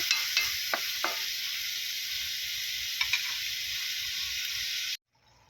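Bottle gourd (upo) and pork ribs sizzle steadily in a hot pan, with a few sharp stirring clicks of a utensil against the metal over a constant frying hiss that cuts off abruptly near the end.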